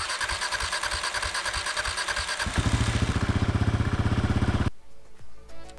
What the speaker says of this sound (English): Turned it back on to start the bike.